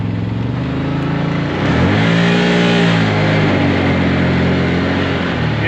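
A Can-Am Maverick Sport Max side-by-side with a Stage One installation, shifted into two-wheel drive, its engine droning loud and close, then revving up and holding a strained high-pitched whine.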